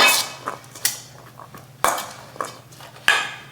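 Chicken pieces and cilantro stirred in a pan with a utensil, giving a few sharp clinks and scrapes against the metal, close and moderately loud, spaced irregularly with no voices.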